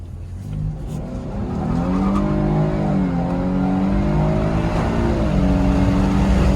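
A 2021 Chevrolet Blazer 3LT with the 3.6 V6 and all-wheel drive accelerates hard; its loud engine note climbs steadily through the gears, with a continuous roar and rushing wind and tire noise throughout.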